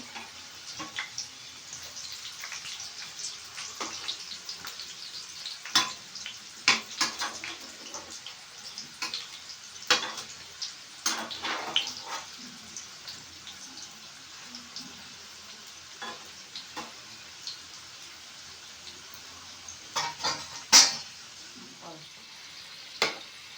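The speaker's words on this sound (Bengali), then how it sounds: "দু পিঠ বেশ ভালো করে লাল লাল করে তো ভাজতে হবে" Fritters frying in a pan, a low bubbling sizzle broken by frequent sharp crackles and pops as the pieces are turned one by one, close and fairly quiet throughout.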